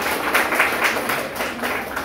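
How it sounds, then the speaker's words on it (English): Applause for a guest at a school research colloquium: a dense, continuous wash of many hands clapping in a room, fairly loud and steady, with no talk over it. "A round of applause for Ma'am."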